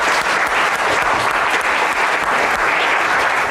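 An audience breaks into sustained applause, a dense, even clatter of many hands clapping together at steady loudness throughout.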